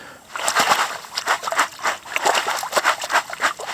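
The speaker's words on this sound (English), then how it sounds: "And then we drop the gravel through the water. Give it a shake left and right to get them in the middle." Gravel sloshes and rattles in a sieve shaken left and right through water, a close, rhythmic series of wet splashing pulses with no talk.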